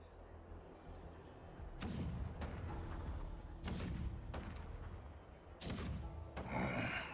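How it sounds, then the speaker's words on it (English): Deep booming cannon blasts in the video game Honkai: Star Rail thunder at irregular intervals, each followed by a rumbling tail, layered over a continuous low battle din. "The rumble of the cannons."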